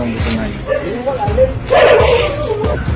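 Dogs bark and yip with short, excited bursts, mixed with loud voices talking over and around them.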